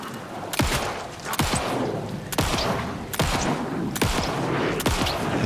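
Bursts of gunfire crack out in a video game, six or so sharp shots spaced roughly a second apart over a steady, noisy battle backdrop, loud and close.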